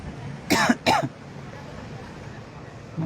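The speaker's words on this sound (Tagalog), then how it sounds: "Ubo." Two quick, close coughs in a row outdoors on a beach walk, sharp and loud over a steady background hiss.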